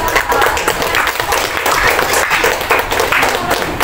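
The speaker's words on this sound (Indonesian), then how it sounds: "Dan kita beri aplaus untuk" Classroom applause from a group of students, a steady dense patter of many hands clapping at once that continues evenly from start to finish with no pauses.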